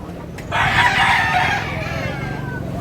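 A rooster at a busy Tabunok, Cebu market gives one loud, close crow lasting about a second, followed by low market murmur.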